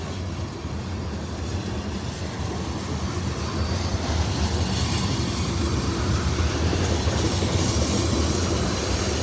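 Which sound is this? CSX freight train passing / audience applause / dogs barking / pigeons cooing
CSX freight train passing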